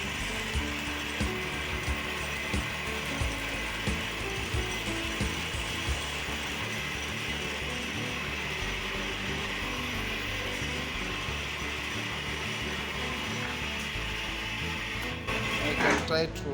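A three-phase motor running on a single-phase supply makes a continuous, close mechanical whir with a rattling, ratchet-like clatter, steady from start to end.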